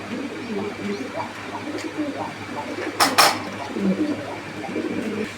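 Racer pigeons at a bustling pigeon market give soft, low coos amid crowd murmur, with a sharp clattering clink standing out briefly midway.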